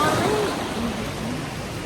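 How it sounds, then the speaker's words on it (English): People wading through shallow sea water just off a boat at Saona Island, a steady broadband wash and splash of water close by with faint surf behind, voices faintly present. "See, we walk through the water."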